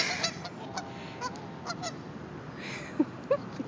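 Several geese honk intermittently beside the Snake River, a few loud close calls standing out over a soft background murmur.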